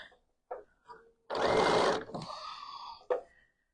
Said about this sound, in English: So I'm sewing 1 block perfectly measured with just the 1 layer of black.